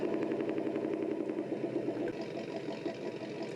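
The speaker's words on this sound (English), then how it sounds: "So we can turn the engine on" A Beier USM-RC-3 RC sound module plays a simulated engine start that settles into a steady, rumbling idle with a faint rhythmic knock, continuous and moderately quiet throughout.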